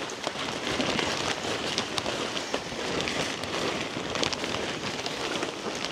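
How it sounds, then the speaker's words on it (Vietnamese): Steady heavy rain pours down outdoors on a steep rocky mountain path near a kindergarten school, a dense continuous hiss with scattered drop spatters and no talk. "Ui, càng lúc càng mưa to nhỉ anh nhỉ."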